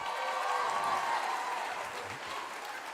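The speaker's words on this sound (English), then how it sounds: "Give this girl a big round of applause" Audience applause greets a girl who has come up as a volunteer at a live show, a steady wash of clapping from a crowd, fairly full throughout and easing slightly toward the end.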